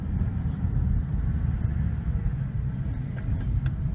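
Interior drone of a 1999 Honda Accord with a manual gearbox, a steady low engine and road rumble at an even level throughout, with no voices.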